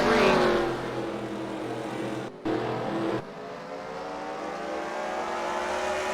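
Race cars roar around an oval track at the New Years Bash 2022, a sustained loud engine drone with rising harmonic whine as they head into a turn, a brief dropout partway through, with no talk over it.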